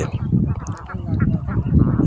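A flock of farm ducks quacks and honks continuously, a busy, overlapping chorus of fowl close by.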